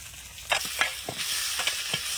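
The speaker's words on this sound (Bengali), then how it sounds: "এখন মাছের তেলটাও ভেজে নেব," Food fries in leftover fish oil, a steady close sizzle broken by repeated clacks of a spoon stirring the pan.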